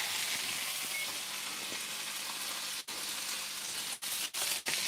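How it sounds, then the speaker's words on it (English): Chicken in a hot pan with Turkish spices sizzles loudly and continuously, a dense hissing fry with a few brief gaps near the end as the pan is moved or stirred. "This should make a nice sizzle."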